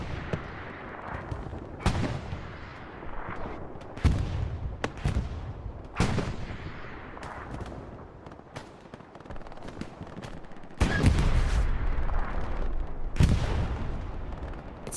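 Gunfire and bombing runs in the online war game Hell Let Loose: repeated sharp shots and heavy booming blasts with rolling rumble, some distant, others close and loud, throughout with no talk.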